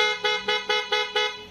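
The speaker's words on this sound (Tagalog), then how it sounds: "So, loud horn with passing." Horn of a Honda CB125 motorcycle, sounded in five short, evenly spaced honks, loud and close with no talk over them.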